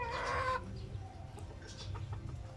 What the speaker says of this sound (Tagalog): Amo ko'y manok dire.